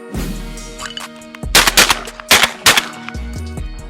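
A Mossberg shotgun fired while held upside down over the shooter's head lets off a burst of loud, close blasts in quick, uneven succession, with ringing tails between shots and no speech.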